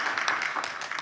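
An audience at a conference on liberation in Palestine claps, a brief, moderately loud burst of many overlapping hand claps in an indoor hall, with no voices over it.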